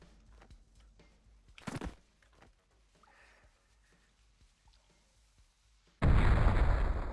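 Bomb blast in the video game Colony 37 erupts suddenly as a loud, broadband roaring boom that sustains through the final second, after quiet ambient rustles and a brief sharp noise.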